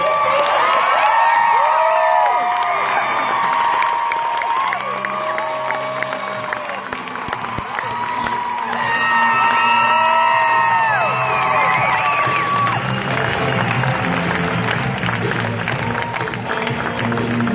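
An audience cheers, whoops and applauds loudly as someone is called up on stage, a dense, steady roar of clapping and shouting voices with no pauses.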